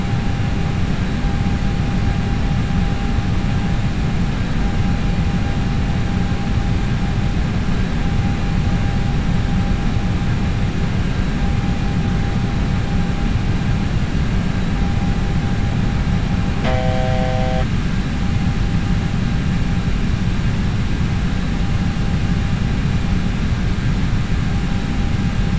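A British Airways airliner in Microsoft FSX flies on approach, its steady broadband engine roar droning continuously throughout, with a brief tonal cockpit chime near the end.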